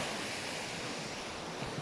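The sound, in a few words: sea waves at the shore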